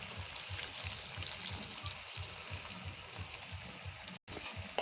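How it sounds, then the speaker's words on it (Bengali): Water pours and trickles into ground mustard paste for a hilsa curry, a soft, steady splashing heard close and quiet. "এখানে আমি একটু জল দিয়ে নেব"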